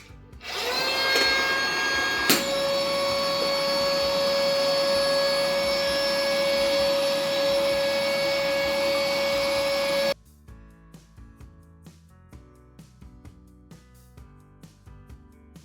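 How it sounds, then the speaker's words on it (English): A built-in electric pump inflating an inflatable, a loud steady whirring drone that starts abruptly and runs for about ten seconds before cutting off, leaving faint clicks and handling noises. "it's also got a built-in pump here"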